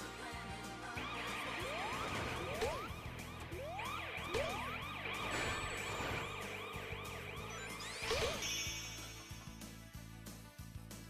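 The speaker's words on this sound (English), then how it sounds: "so much cop siren noises" Police sirens wail in the Sonic Generations video game, several rising and falling tones overlapping over steady game music and effects, loud and continuous with no talking.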